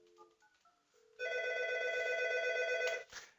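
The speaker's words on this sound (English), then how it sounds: "now I'm going to call 792 to hear the ringing" An Algo SIP audio alerter rings for extension 792, a loud steady electronic tone running about two seconds after a few soft beeps, then cutting off sharply.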